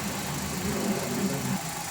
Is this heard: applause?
no